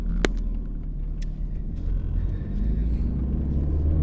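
A Ferrari on the track at Mondello Park pulls away from a standstill, its engine a steady, close, low rumble that swells slightly toward the end.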